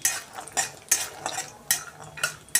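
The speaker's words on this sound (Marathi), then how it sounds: "शेंगदाणे आता आपण छान असे भाजून घेणार आहे" Peanuts roasting in oil in a pan on a low flame, stirred with a utensil: rhythmic scraping and rattling strokes about every half second over a faint sizzle, close up, no talk.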